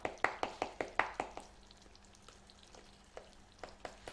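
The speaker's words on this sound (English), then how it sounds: "we're still bubbling away nicely with the caramel" Caramel bubbling in a pan, a quick run of sharp popping bursts at first, then sparser soft pops and a faint sizzle, close and fairly quiet.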